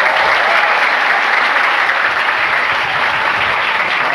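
An audience at a community talk in Sampang claps loudly and continuously, a dense, even wash of applause with no voices over it.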